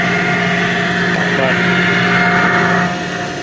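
A 1917 TUEC central vacuum motor hums steadily with a constant low drone and tonal whine, loud and close, easing slightly near the end.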